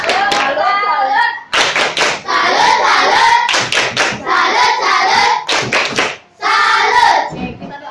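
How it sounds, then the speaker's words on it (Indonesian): Students in a classroom clap their hands together in bursts, loud and close, broken by short pauses, with a few voices mixed in. "Tepuk tangan dulu, tepuk tangan."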